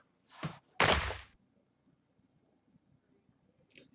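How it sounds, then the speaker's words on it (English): A single heavy thump lands in the visual novel Never7, a short loud thud with a softer knock just before it and a faint tap near the end, otherwise quiet. "a thump!"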